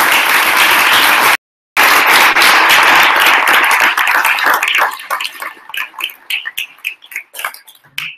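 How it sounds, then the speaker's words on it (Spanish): Audience at a web development bootcamp graduation applauding the graduating students, dense loud clapping that breaks briefly, then thins into scattered individual claps and fades. "quería un fuerte aplauso a todos los alumnos que se graduan"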